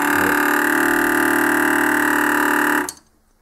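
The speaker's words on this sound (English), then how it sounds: "That was the sound of the alarm." A loud, steady electronic buzzing alarm tone from a GPO N1070 PMBX telephone switchboard sounds continuously for about three seconds, then cuts off abruptly into near silence.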